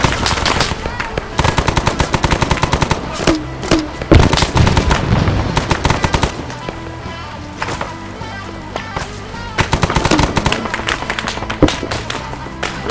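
An RPD machine gun fires in a combat video game set on a jungle mission, delivering rapid loud bursts of automatic gunfire separated by brief pauses, with players talking faintly in between.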